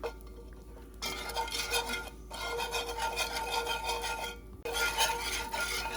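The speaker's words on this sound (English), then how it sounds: "I added the 4 bouillon cubes, and I'm just going to incorporate these." A spoon scrapes and stirs steadily in a pot as four bouillon cubes are worked in for a beef enchilada sauce, a close continuous rasping rub broken by two brief pauses.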